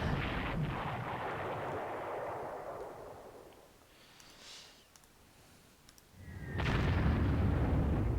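Artillery fire in the World War II strategy game Panzer Corps, with a heavy rumbling barrage that fades out, a quieter lull, then a fresh loud blast and sustained roar.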